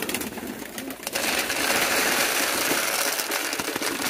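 Soft pigeon cooing amid a dense, continuous wash of flock noise and rustling at a pigeon market in Chittagong, fairly close, with no talking.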